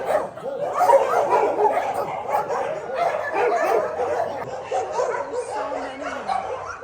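Several dogs at an animal shelter barking, yipping and whimpering together in a noisy, continuous chorus, fairly close and loud.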